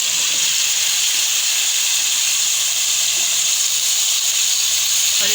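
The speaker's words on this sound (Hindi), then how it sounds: "अब हम इसमें ये आलू डाल देंगे" Potatoes hit a hot pan of softened ingredients for aloo sabzi and set off a loud, steady sizzling hiss that runs without a break, close and even throughout.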